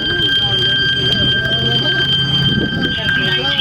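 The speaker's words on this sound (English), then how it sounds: "I think it's a fire alarm." A fire alarm rings continuously during a Houston police officer-involved shooting scene, steady high electronic tones sustained throughout, with a low hum and scattered voices and movement underneath.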